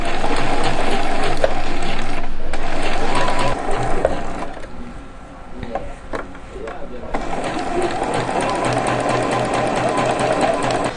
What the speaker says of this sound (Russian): Вот ее нужно шить очень аккуратно.